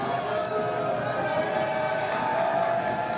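Spectators cheering and murmuring in the stands at a high school baseball game, St. Pius X Panthers against St. Thomas Eagles, a steady, broad crowd noise with no standout peaks.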